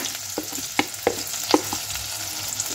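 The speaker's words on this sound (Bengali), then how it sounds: "মশলাটা ভালো করে কষে নেব" Ginger-chili paste with turmeric and chili powder sizzles steadily in a pan while a veg biryani masala cooks. A spoon stirs it, giving irregular scraping clicks close by.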